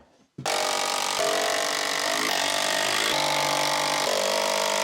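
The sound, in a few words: power drill driving screws into workbench supports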